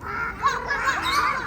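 A voice imitates a crow cawing, with a few harsh, bird-like calls close up against classroom chatter.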